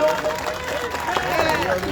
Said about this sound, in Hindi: अरे जोरदार तालियां तो बजाइए मेरे भाइयों और बहनों।